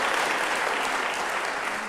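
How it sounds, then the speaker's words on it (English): An audience at a national dialogue opening gives a sustained round of applause, dense steady clapping filling the space at even loudness throughout. "let's give them a round of applause for having done all this work."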